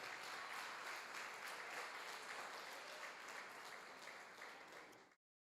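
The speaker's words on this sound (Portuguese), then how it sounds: "Vamos aplaudir o nome do Senhor." A church congregation applauds during a worship service, a steady, dense roar of many hands clapping together that holds evenly for about five seconds before cutting off abruptly.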